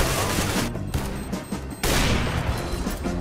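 Gunfire in CS:GO, an AWP sniper rifle among it, in dense bursts of loud shots that cut off abruptly and then resume at full volume.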